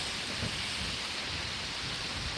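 Heavy rain pours steadily during a severe thunderstorm in Pittsburg, Kansas, a dense, continuous hiss with low rumbling underneath, loud and close, with no voices.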